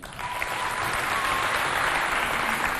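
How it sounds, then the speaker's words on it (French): An audience at a cultural centre event applauds, a broad, even wash of many hands clapping that builds slightly and holds steady, with a faint voice beneath. "Alors, tout le monde s'applaudit, s'il vous plaît."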